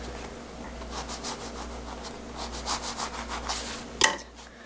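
A knife saws a slit into a soft bread roll, giving a quiet close rasping rub in short strokes that ends in a sharp click, with no talking.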